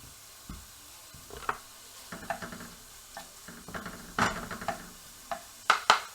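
Two slices of chopped bacon sizzle in a skillet for pork fried rice, with a low, steady fry broken by irregular clanks and scrapes of stirring, close and fairly quiet.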